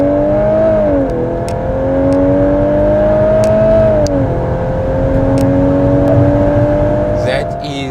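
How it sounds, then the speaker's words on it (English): A Volkswagen Golf 8 R with a twin-clutch DSG pulls hard under acceleration, its engine note climbing steadily and dropping sharply at quick gear changes, loud and close from inside the cabin with a voice talking over it. "this motor really pulls really hard, and as you'd expect, the twin clutch DSG shifts very quickly"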